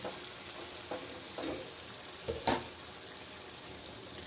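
Egg bhurji cooks in a pan on low gas with a faint, steady sizzle and a few soft scraping stirs, the strongest near the middle.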